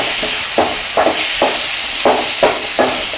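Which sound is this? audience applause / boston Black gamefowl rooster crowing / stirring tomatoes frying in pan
stirring tomatoes frying in pan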